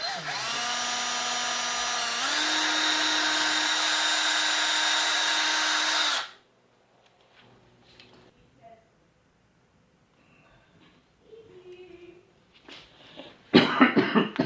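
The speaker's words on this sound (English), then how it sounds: "May have to drill it." A power drill whirs loudly for about six seconds while drilling an entry door window with built-in blinds, its pitch rising once, then stops; quiet handling noises and a brief burst of clatter follow.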